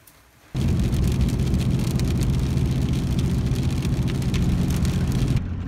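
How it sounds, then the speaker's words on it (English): Heavy rain pours steadily on a rainy day, starting abruptly as a loud, dense hiss and holding constant before easing slightly at the end, with no voices. "It is a pouring rainy day today"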